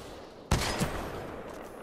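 A rapid-fire gun in Titanfall 2 opens up in a sudden dense burst, the quick shots blurring into a sustained roar that slowly tails off with the echo, loud against a quiet room.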